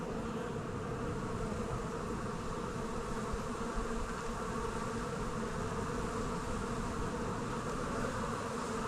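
Honey bees buzz around an open hive in a steady, dense hum that holds evenly from start to finish.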